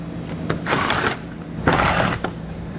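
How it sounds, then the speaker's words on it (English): A ratchet wrench with a 7mm socket backs screws out on a 2022 Ford Escape, giving two loud bursts of rapid metallic clicking separated by a short pause. "We'll remove those with a 7mm socket."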